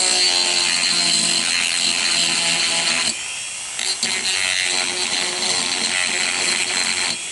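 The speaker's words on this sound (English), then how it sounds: "Now we'll take our sanding roll and go in here and dress up a little bit." A power sanding roll grinds steadily against the wooden stock of a Savage 64 rifle, briefly easing off about halfway before resuming its rough, abrasive whir.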